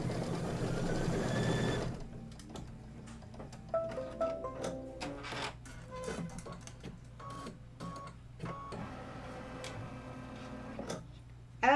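An embroidery sewing machine stitches down quilt pieces held in a 6x10 hoop, giving a steady run of rapid mechanical ticks and clatter that carries on alone, close and fairly quiet, after a louder opening burst.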